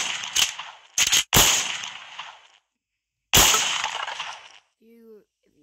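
Gunfire in the horror game Horror Hospital 3: several sharp, loud blasts with crashing tails, spaced apart with silent gaps between them, followed by a brief faint tone.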